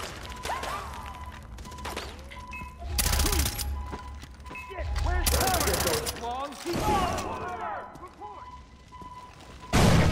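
Enemy gunfire in the Far Cry 3 video game on PC comes as loud bursts of automatic shots. Two long volleys break through the scene with echoing impacts and a final sharp blast, and someone speaks over parts of it.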